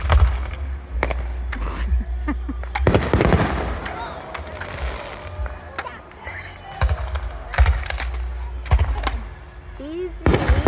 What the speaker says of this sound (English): Firework time!